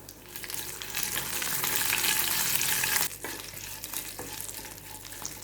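Curry leaves hitting hot oil in a tadka for pudalangai kootu, a loud, dense crackling sizzle that cuts sharply and then settles into a quieter fizz, close up with no voices.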